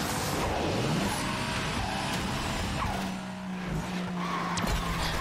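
Tires skid and squeal as a Ferrari F12 drifts through a corner in the Asphalt 9 racing game, a steady screech over loud engine roar lasting several seconds.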